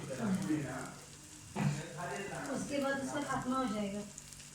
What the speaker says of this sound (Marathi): आता हे सुंगटा फ्राय होतली